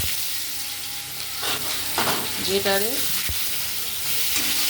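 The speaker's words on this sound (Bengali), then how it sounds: "পেঁয়াজটা ভেজে নেব" Grated onion paste sizzles steadily in a hot pan over dried chili and bay leaf, with a spoon stirring and scraping close up while a voice speaks briefly.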